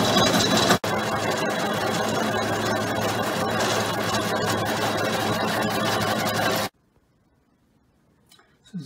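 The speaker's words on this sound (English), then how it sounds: "I got it mounted up in the lathe here, the other half, and it mounts fine in the 3-dot chuck" A metal lathe turns a dry sump pump part for a '37 Chevy race rod, a steady loud mechanical whir and hum that cuts off abruptly near the end, leaving near silence.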